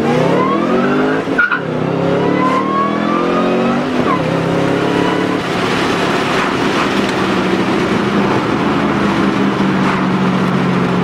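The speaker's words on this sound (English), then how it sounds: "Here's first gear." A supercharged 435-horsepower Ford Mustang revs hard and accelerates in first gear, pitch climbing steeply before shifting, with a constant high supercharger whine riding over the roar.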